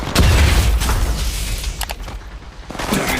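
Loud gunfire from enemy squads in the Apex Legends Mobile video game, a dense, booming barrage with overlapping shots and rumbling impacts that continues throughout without talking.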